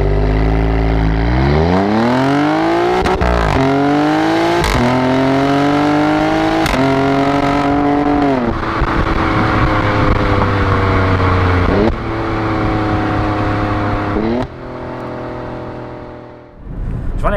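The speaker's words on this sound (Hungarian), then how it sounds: "akik ezt a Ferrari motor hangot alfásították" Alfa Romeo Stelvio Q with a Ferrari-derived engine revs loudly and repeatedly, sweeping up through the gears with sharp exhaust pops and crackles between rises, close and dominant throughout.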